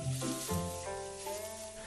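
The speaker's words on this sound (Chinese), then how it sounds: "小火翻炒" Black salt being stir-fried in a hot wok over low heat gives a steady, close sizzle with stirring scrapes that runs through the whole short stretch.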